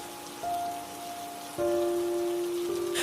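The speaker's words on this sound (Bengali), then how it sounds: "সকাল থেকে টিপটিপ বৃষ্টি পড়েই চলেছে" Light, steady drizzle falls in a small rural village, a faint, soft patter on surfaces heard alone, with a quiet tonal hum behind it.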